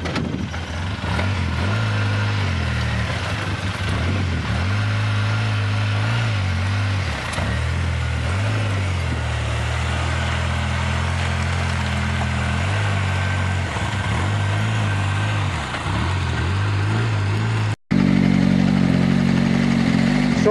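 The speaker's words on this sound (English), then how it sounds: "Mark, drive over the hose here." A vehicle's engine runs and rolls across a 4-inch pump hose laid out on the ground, its steady drone broken by repeated dips and bumps, then ending in an abrupt cut and a louder burst.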